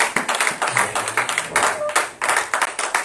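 A church congregation at a Sunday service claps together to acclaim God, a dense burst of hand claps that is close and lively, with a slightly uneven rhythm and no clear voices on top.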